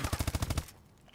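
Rapid automatic gunfire in a Call of Duty Advanced Warfare match, a quick burst of about eight evenly spaced shots lasting half a second before cutting off into quiet.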